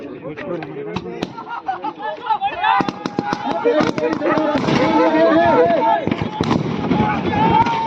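Gunfire in a staged ambush as scouts open fire on bandits: sharp, rapid cracks and bursts, loud and close, fill the whole clip. Shouting voices run continuously underneath.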